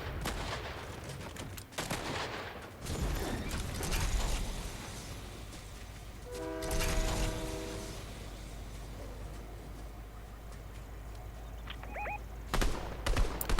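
Bursts of gunfire in Fortnite as a player shoots out a building's roof, sharp cracks and breaking-structure noises scattered through the clip over game ambience.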